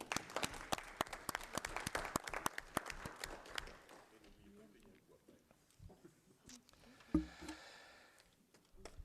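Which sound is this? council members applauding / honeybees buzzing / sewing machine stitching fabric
council members applauding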